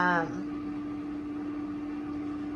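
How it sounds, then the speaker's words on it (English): A steady air fryer hum with a constant tonal drone runs throughout at moderate level, after a brief voice at the very start. "The noise you hear in the background is my air fryer."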